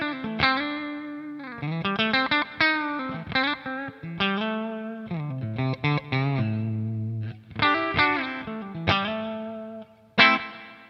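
An electric guitar plays a melodic line of plucked and slid notes through a Revv Generator 100R amp, with a spacious reverb tail ringing after each phrase.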